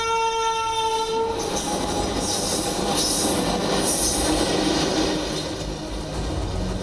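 A train rolls past a railway crossing with a loud horn blast at the start, followed by a steady roar of wheels and cars, close and continuous throughout.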